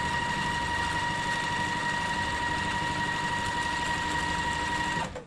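Steady, close hum and rapid needle clatter of a sewing machine stitching white and navy fabric pieces along both sides of a drawn diagonal line for a quilt block, running continuously before stopping near the end.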